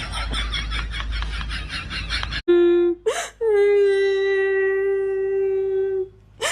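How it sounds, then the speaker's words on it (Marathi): A person cries loudly in a comedic sketch, a drawn-out wailing sob with a sharp break, following a stretch of noisy speech. "ए काय रडायला लागल्यास?"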